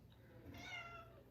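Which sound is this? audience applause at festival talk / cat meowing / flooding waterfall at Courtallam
cat meowing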